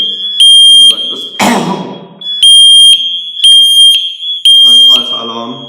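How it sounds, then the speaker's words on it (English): FireAngel Wi-Safe 2 networked fire and CO alarms sounding together, a shrill piercing electronic tone in repeated bursts of three, close and loud, with a short noisy disturbance and brief speech between the pulses. "All the alarms are going off in the network."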